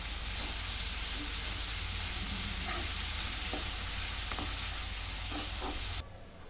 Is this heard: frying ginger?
yes